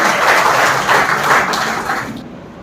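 Applause for a speaker at a college address, dense steady clapping from an audience that fills the whole moment and fades slightly at the end, with no speech over it.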